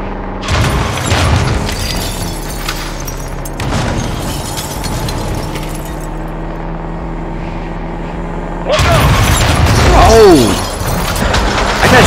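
Loud land mine blasts in Modern Warfare 2, several sharp booms with crackling debris and a lingering vehicle rumble between them, with excited shouting over the chaos.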